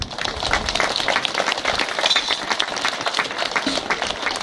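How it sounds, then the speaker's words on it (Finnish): A crowd at an outdoor summer event gives loud, sustained applause for the Hymyhuulet performers, dense rapid clapping from many hands throughout, with no talking over it. "Vielä kerran raikuvat aplodit Hymyhuulille."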